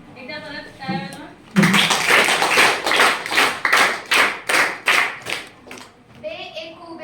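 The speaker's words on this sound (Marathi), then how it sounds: "गुजरातीसाठी एकदा परत टाळ्या वाजवा." A group of schoolchildren claps hands together in a loud, steady burst of rhythmic claps lasting several seconds, with children's voices briefly heard before and after.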